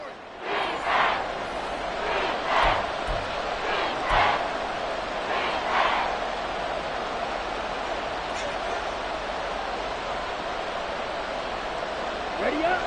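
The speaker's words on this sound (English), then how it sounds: "This crowd turning up the decibel level." An American football stadium crowd during a Cowboys game late in the fourth quarter roars loudly and continuously, swelling with cheers and yells, while a commentator's voice sits faintly underneath.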